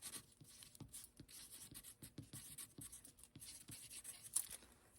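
Someone writes a name on the back of a piece of cardboard with a pen, making soft, quick scratchy strokes in short bursts, close and quiet, with no voices.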